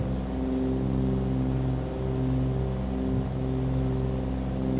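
A Cessna 414 flying on one engine after losing the other, a steady, loud, droning engine hum with strong even harmonic tones that stays constant throughout.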